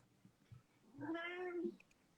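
A cat lets out one moderately loud, wavering meow lasting under a second, heard alone against a quiet indoor background.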